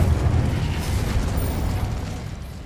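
A fire spell bursts into a deep rumbling blast in the video game Hogwarts Legacy, a loud booming explosion that fades into a rolling roar.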